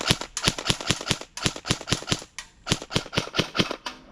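A KWA QRF Mod.1 airsoft rifle, stock trigger, snaps off rapid shots in quick bursts, about twenty crisp close pops with a short gap midway and no talking.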